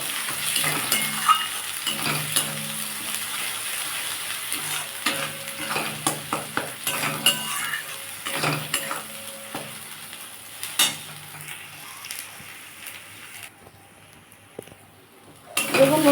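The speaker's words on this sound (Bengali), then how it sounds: "পাতাটা আমি দিয়ে দিয়েছি এবার একটু ভালো করে ভেজে নেবো" Ghetkol leaves frying and being stirred in a pan, a steady close sizzle broken by repeated scraping and clacking of the spatula against the pan, with brief voices; the sizzle drops away near the end.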